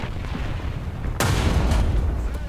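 T-10A tank cannon in War Thunder firing once: a sudden heavy boom partway through, its low rumble lingering to the end over steady background game noise.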